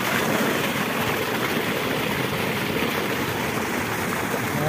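Water pump discharging water out of a flooded farm field into a drain, a steady loud rushing gush of water with engine-like rumble, continuous and unchanging throughout with no talk.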